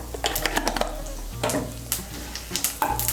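Whole cumin seeds, cardamom, cloves and cinnamon tempering in hot oil, a close crackling sizzle with quick clicking stirs and scrapes of a spoon against the pan in short bursts.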